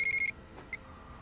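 A telephone rings in a film scene with a bright electronic tone, a longer warbling burst followed by a brief second chirp, loud and close in an otherwise quiet room.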